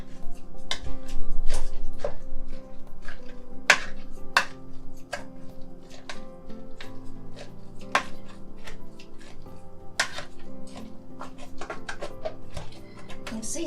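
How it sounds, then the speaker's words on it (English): A knife chops bacon on a cutting board while making hutspot, with sharp irregular knocks and occasional clatter of kitchen utensils, as people talk throughout. "Cutting the bacon. Cut that bacon."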